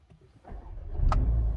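An Austin A35 car engine cranks and catches, a sharp starter burst followed by a low, steady idle rumble building up close by.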